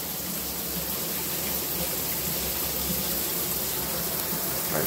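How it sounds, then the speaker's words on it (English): Steady, dense hissing spray of water, like a rain shower, continuing evenly at moderate loudness throughout with no pauses. "It sounds just like a rain shower."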